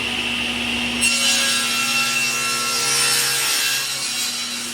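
A SawStop table saw spins with a steady high whine as its blade cuts a miter through wood, holding a loud, continuous rasp close by with no speech.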